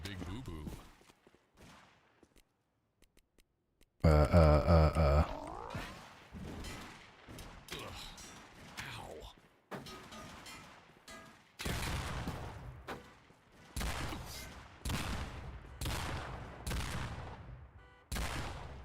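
Bursts of gunfire in the video game Postal 4, a loud rapid volley near the start followed by repeated sharp shots and impacts, with a voice talking between them.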